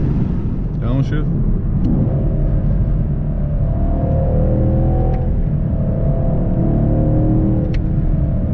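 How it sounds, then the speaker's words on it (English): A 2020 Camaro SS engine roars close by, revving up and down through deep, throaty rumbles with a continuous loud growl as it downshifts through paddle shifters. "Fourth gear, downshift."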